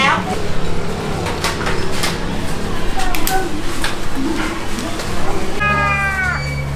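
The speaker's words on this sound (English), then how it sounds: "A lot of these shop owners have cats guarding the shop." A cat in a village shop in Thailand gives a drawn-out meow near the end, heard up close over steady shop and street noise and busy background sounds.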